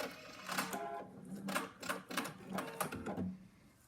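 A sewing machine runs in short, rhythmic bursts of rapid stitching as it finishes and ties off a buttonhole, fairly faint and close with brief pauses between runs.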